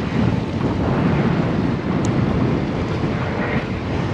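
Steady wind blowing across the open shoreline at Albany Bulb, a continuous loud rushing roar buffeting the microphone, with no voices.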